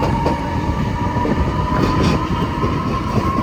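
Swiss passenger train running from Grindelwald toward Interlaken West, pulling into a station: a steady, loud rumble of wheels on rails with a faint sustained whine throughout, no voices.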